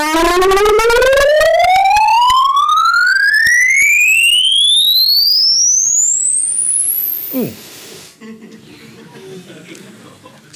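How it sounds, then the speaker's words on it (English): A 12-second rising sine sweep test tone played through a sound system, gliding steadily from low to very high pitch, loud and alone, ending with a short harsh burst and faint room noise. "I typically do something like a 12-second sweep. I'll play it. It's only 12 seconds"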